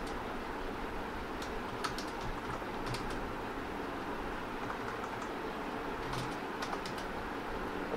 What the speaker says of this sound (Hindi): और अब मैं इसमें कुछ टाइपिंग करके देख लेता हूँ।